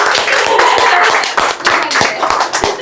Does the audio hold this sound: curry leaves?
no